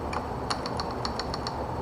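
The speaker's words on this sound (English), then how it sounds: "I'm typing this out for you." Rapid clatter of computer keyboard keys, a quick irregular run of soft clicks over a steady background hum, with no talk.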